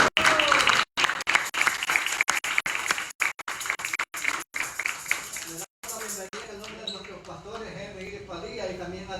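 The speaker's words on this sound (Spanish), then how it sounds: "al hermano José, a la hermana Vilma, si se ponen de pie para que les demos un aplauso y les demos la bienvenida." A church congregation claps in welcome, a dense burst of applause for the first six seconds that thins into scattered claps while a voice talks over it.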